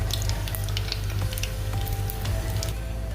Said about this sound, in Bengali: শুকনো লঙ্কা আর এই কালো জিরাটা আমি ফোড়নিতে দিয়ে দিলাম